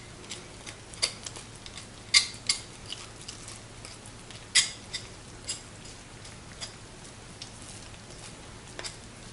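A knife works through turkey thigh meat and connective tissue during deboning, giving a scattered series of small, sharp clicks and ticks at irregular intervals against a quiet background.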